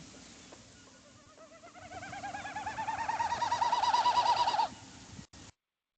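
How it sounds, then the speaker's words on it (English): Winnowing of a male Wilson's snipe displaying over prairie on a summer evening, a rapid pulsing hollow hoot that swells in loudness over several seconds and then cuts off, heard alone at moderate distance. "So that's making that noise is a Wilson snipe."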